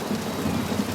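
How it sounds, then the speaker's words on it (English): Steady rain with a low rumbling of thunder in the video game Pentiment, a dense continuous patter with a soft deep roll beneath it. "Look at this rain."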